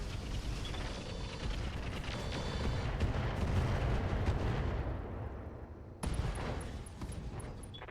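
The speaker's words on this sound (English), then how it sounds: "Firing all weapons." A mech in the Roguetech video game fires all its weapons at once, a sustained loud barrage of booming, crackling blasts that swells over several seconds, then a sharp new burst of fire cuts in near the end.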